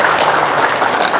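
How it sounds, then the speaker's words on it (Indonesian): Audience applause breaks out at an Indonesian religious gathering, a brief, dense wash of clapping that fills the whole moment at steady loudness with no voices over it. "Tepuk tangan dong."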